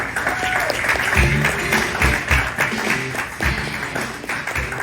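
A live audience at a Houston taco restaurant performance applauds steadily, a dense wash of clapping with a few louder thumps mixed in.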